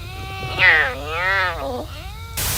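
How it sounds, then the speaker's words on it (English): A clouded leopard gives a single drawn-out, wavering moaning call with rising and falling pitch, fairly close and alone, followed by a brief burst of noise at the end. "Clouded leopards can't do either, instead they do this."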